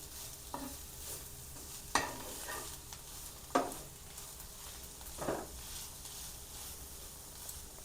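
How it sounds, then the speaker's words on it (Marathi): Vegetables with salt and kasuri methi being sautéed in a pan, with a steady low sizzle and several distinct scraping stirs of a spatula at irregular intervals, close and fairly quiet, no talking. "चांगलं परतून घेऊया।"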